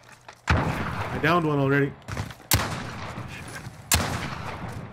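Sharp gunshots and explosive blasts from a video game, with three hard hits spread across a few seconds and a rumbling tail after each, while a player talks over the action.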